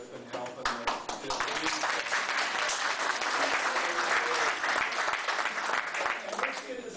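A crowd at a neighborhood community meeting breaks into applause that swells quickly, holds steady and full, then begins to fade toward the end, with a few voices mixed in.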